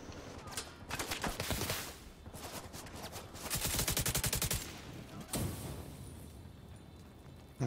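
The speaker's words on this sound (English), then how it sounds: "And we got explosions and shit going on." Gunfire and explosions from the video game The Division 2, with bursts of rapid shots and a sharp blast, moderately loud in a busy mix with no voices.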